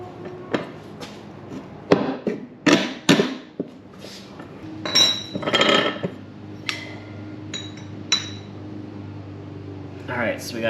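A new 6205 RS sealed bearing being installed in a John Deere 14SB lawnmower, heard as a series of sharp metallic knocks and taps at uneven intervals, close by, with some quieter scraping between strikes.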